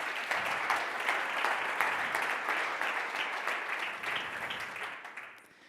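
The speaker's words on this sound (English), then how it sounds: "Big applause, please." Steady applause from an audience at a startup accelerator demo day greets team iScribe, a dense, even patter of many hands that fades out near the end.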